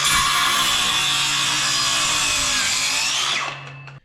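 Power saw cutting through a 2x6 wooden board, a loud steady whine that runs about three seconds at full volume before spinning down to silence, with no talk.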